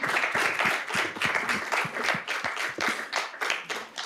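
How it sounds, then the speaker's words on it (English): Audience applause for a panel at an evening civic event on activism, steady mixed clapping from a moderate-sized crowd lasting the full few seconds, fairly close and even in level. "Can we give our panel a round of applause?"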